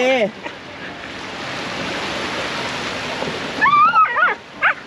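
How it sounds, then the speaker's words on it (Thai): Sea waves washing onto a beach, a steady broadband wash of surf lasting several seconds, with a voice and adult talk at the start and end. "แลนี่คือน้ำทะเล"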